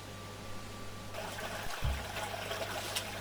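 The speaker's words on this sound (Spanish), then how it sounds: "el agua sale a la superficie hasta un tanque o pequeños canales que distribuyen el agua" Water running into a tank or small distribution channels, a steady rushing trickle that swells partway through into a fuller, louder flow, with a low hum underneath and no voices.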